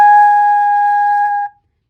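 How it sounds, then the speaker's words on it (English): A flute head joint blown across its opening like a bottle gives one steady, airy pure tone lasting about a second and a half before cutting off, loud and close with no talking. "Just like a bottle, you want to blow across the opening, and it will make a sound like this."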